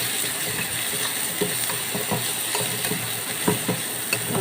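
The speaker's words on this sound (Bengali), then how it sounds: "বেরেস্তাটা করার জন্য আমাকে আরেকটু তেল দিতে হবে, তাই আরেকটু তেল দিয়ে নিচ্ছি" Sliced onions fry in plenty of oil for birista while a utensil stirs them, giving a continuous sizzle with repeated quick scraping clicks against the pan throughout.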